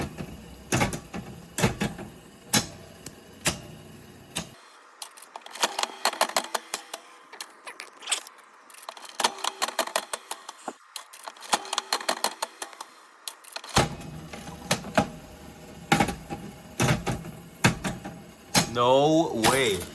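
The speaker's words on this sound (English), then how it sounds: "Just let you enjoy the clicks and clanks of an antique slot machine." An antique slot machine being spun, giving bursts of sharp mechanical clicks and metallic clanks with ratcheting reel stops and lever pulls, close by, repeated over several spins, with a few brief pauses in between.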